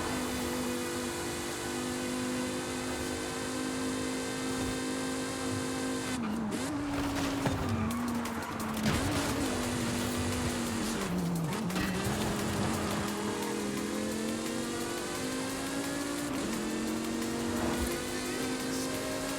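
Subaru WRX engine in Forza Horizon 5, droning steadily with rising and falling revs as it shifts, with brief tire skids in the middle, loud and continuous throughout.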